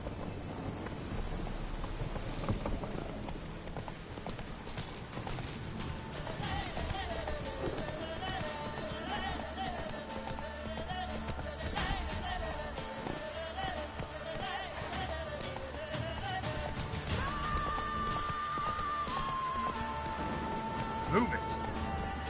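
Roach, a horse in the video game Witcher 3, gallops with a steady drumming of hooves under wind and ambient game sound, while a voice speaks briefly over it.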